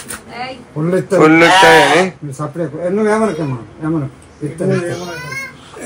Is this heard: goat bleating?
yes